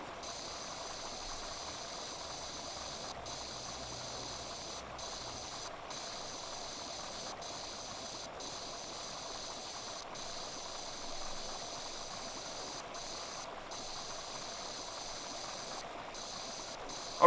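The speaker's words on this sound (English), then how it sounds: "Just going around blasting the shit out of people's houses with a jet wash" Pressure washer jet blasting a fence in the video game Power Wash Simulator, a soft, continuous hiss of spray that runs steadily with faint periodic ticks and no talk.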